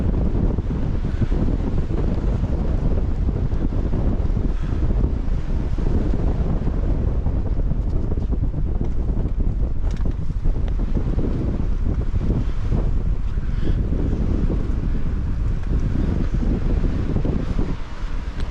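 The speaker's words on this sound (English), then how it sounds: "we are shielded by the wind, thankfully, to these rocks, not entirely, still gushing past us" Strong wind buffets the microphone in gusts while sheltering among rocks during a stormy climb, a loud, continuous roar with surging bursts and no talking.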